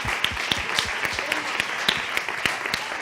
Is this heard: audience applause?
yes